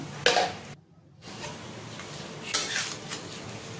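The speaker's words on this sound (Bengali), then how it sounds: "একটু স্ন্যাপ করে নেব খুন্তি দিয়ে।" A metal spatula scrapes and clatters against a pan as chopped cucumbers are stirred with salt for a veg burger, with a couple of sharp knocks and a brief silent gap, no talk.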